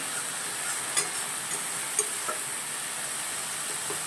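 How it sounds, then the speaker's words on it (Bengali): Spice paste (masala) fries in oil with a steady soft sizzle, broken by a few light spoon scrapes and taps as it is stirred, close and fairly quiet, with no talk. "দেখুন মশলা কিন্তু বেশ কষে গেছে, তেল ছাড়া শুরু করে দিয়েছে"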